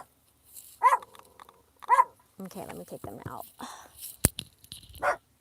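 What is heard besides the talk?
dogs barking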